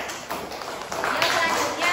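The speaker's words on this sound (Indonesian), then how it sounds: "Ya, tepuk tangan." Students clapping in a classroom after an answer, a short burst of hand claps near and fairly loud over about two seconds, with classroom voices mixed in.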